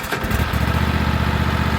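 A 2016 Husqvarna LGT2654 lawn tractor engine cranks briefly, then catches and settles into a steady, loud, close idle with an even throbbing rhythm.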